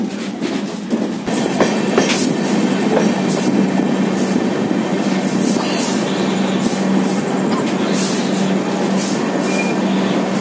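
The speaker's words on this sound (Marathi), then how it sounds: "कल्याणला ट्रेन आली आहे प्लॅटफॉर्म नंबर 6ला" A train rumbles steadily with rhythmic clickety-clack over the rails, a continuous loud roar heard from onboard a 3rd AC economy coach of the Mahalaxmi Express arriving at Kalyan Junction.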